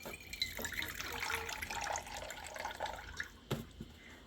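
Water from a cracked coconut pours and trickles into a vessel, a faint uneven splashing with a few drips and a sharp knock near the end.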